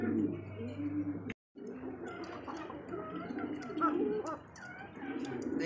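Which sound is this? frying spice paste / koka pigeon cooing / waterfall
koka pigeon cooing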